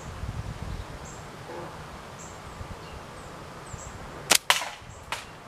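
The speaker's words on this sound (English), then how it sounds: "I'm putting almost all of these shots, as long as I'm doing my part, in the same spot on that can" Gunshots from a frameless slingshot strike a swinging can target outdoors: two sharp metallic pings close together, then a third a moment later, over quiet ambient rustle and insect hum.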